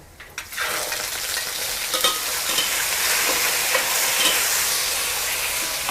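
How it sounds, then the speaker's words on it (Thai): Squid stir-fries in a wok with oil and garlic, giving a loud, constant hissing sizzle with scraping and clattering stir strokes, starting after a quieter moment and continuing with no voices. "ผัดปลาหมึกให้สะดุ้งสักนิดนึงก่อนนะคะ"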